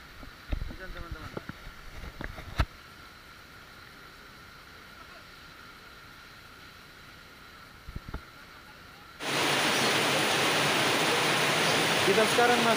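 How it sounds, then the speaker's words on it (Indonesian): Heavy rain falls on the Jalan Poros Bira road on the way to Bulukumba. After a quiet stretch broken by a few sharp knocks, a dense, loud hiss of downpour starts suddenly and holds steady to the end. "Hujannya sangat deras."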